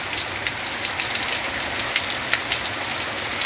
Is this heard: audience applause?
no